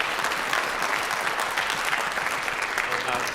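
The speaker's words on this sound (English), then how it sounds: "Give a big hand, everybody." A high school American government class gives a big hand, a full burst of steady group clapping that holds at even loudness for a few seconds.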